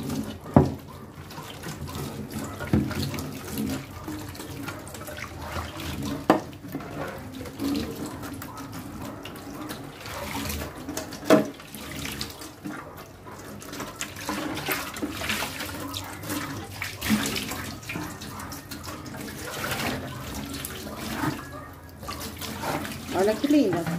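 Water splashes and runs steadily as it is poured to rinse a freshly cleaned surface, a continuous close gushing with uneven spatters, while someone talks over it at intervals.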